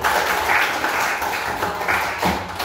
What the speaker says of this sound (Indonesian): Tepuk tangan untuk Doni